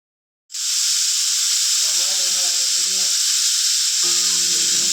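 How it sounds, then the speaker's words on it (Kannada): A pressure cooker full of egg biryani releases a loud, steady high hiss of steam from the start, with a low tonal murmur and voices faintly beneath it. "ಇವಾಗ ಕುಕ್ಕರ್ 3 ವಿಸಿಲ್ ಆಗೈತಿ."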